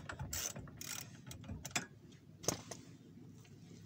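Ratchet wrench clicking in rapid bursts while tightening the suspension ball joint bolt on a Citroën C6, C5 or Peugeot 407, close up with metallic ticks and louder clacks, no talking.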